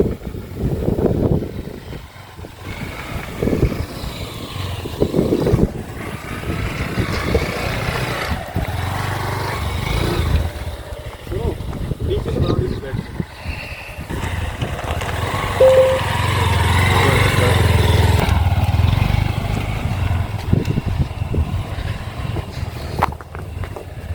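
A motorbike rides uphill toward a hilltop fort at Pathrigarh, its engine droning steadily and close throughout, rising in loudness in the second half, with wind and road noise.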